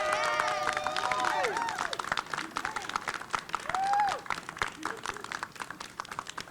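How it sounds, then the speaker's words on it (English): A Newark audience applauds the young people of Youth Build, with scattered clapping and cheering voices rising over crowd noise, loud at first and then thinning out. "let's give a round of applause for the young brothers and sisters at Youth Build"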